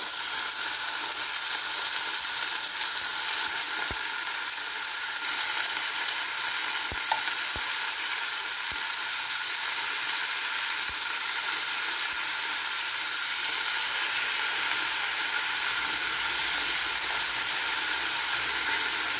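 Marinated chicken sizzles and fries steadily in a pan, a constant bright hiss with a few faint clicks, no voices over it.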